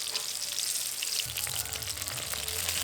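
Slices of pointed gourd (potol) frying in hot oil, a steady close crackling sizzle with fine spattering pops, growing denser partway through, no talking.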